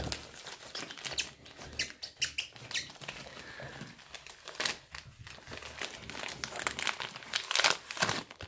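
A bag of candy is pulled out of a child's stroller with loud, irregular crinkling and rustling of thin plastic close by, in uneven bursts.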